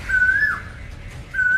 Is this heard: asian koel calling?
yes